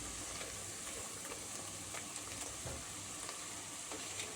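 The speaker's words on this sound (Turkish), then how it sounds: "soğanımızı ara ara karıştıralım. Ama iyice pembeleşmesini istiyorum." Onions fry in a pan for a Turkish ayran soup, making a soft, steady sizzle with light intermittent scrapes and clicks of stirring and no talking.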